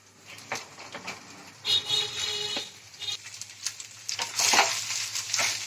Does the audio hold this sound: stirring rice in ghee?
yes